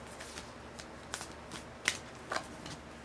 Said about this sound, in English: These cards are definitely hard to shuffle. This is a new deck.